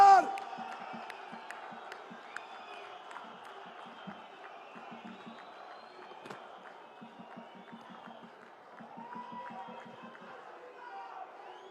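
Crowd at a political rally in Udhampur, Jammu and Kashmir, awaiting the Prime Minister on stage, with a steady hum of voices and rhythmic clapping bursts, moderately loud and continuous throughout.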